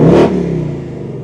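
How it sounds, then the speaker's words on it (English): A new Ford Mustang engine revs in one short, loud burst that quickly drops back to a lower, rumbling settle, heard alone. "I just revved it there"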